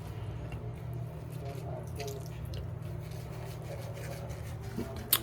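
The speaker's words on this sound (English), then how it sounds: "Wring some of it out because it's dripping." A dripping wet cleaning cloth is wrung out by hand, giving soft squishing squeezes and small drips up close, with no one speaking.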